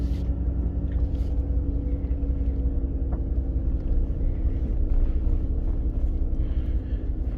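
An off-road vehicle on snow-and-ice tires backs slowly down a steep, snowy hill, its engine a steady low idle rumble with faint creaks and crunches, no talking.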